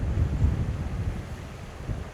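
Strong gusty wind blows outdoors beside the River Tweed, buffeting the microphone with a loud, rumbling roar that rises and falls in gusts.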